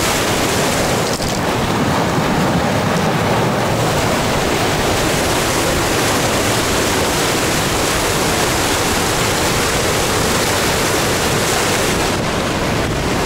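A waterfall in the Grand Canyon of Crimea roars close by, a loud, unbroken rush of falling water with some wind buffeting the microphone.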